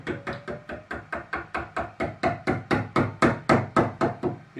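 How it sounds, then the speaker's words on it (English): A Morse 2 taper part is hammered into a lathe tailstock in a steady series of about twenty sharp metallic blows, evenly spaced and close, each ringing briefly before the next strike. "first glue and then hammer it in."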